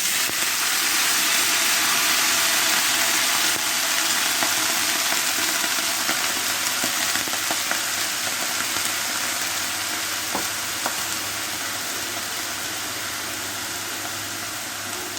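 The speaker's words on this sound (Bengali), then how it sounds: "ঘি গরম হয়ে গিয়েছে। বড় সাইজের একটি বেগুন আমি কেটে নিয়েছি, বেগুন দিয়ে দিচ্ছি।" A large sliced eggplant hits hot ghee and fries with a loud, dense, even hiss that stays strong throughout and eases slightly toward the end, close up with no talking.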